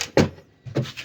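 A plywood amplifier rack drawer slides open in two short, rough strokes, a louder woody rumble followed by a second scrape after a brief pause, close by with no talk.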